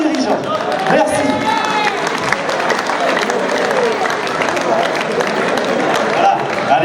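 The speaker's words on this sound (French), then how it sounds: "je vous demande tous d'applaudir une femme de dirigeant" Audience at a club's 50th anniversary awards gathering applauding steadily, a dense patter of many hands with scattered crowd noise and voices throughout.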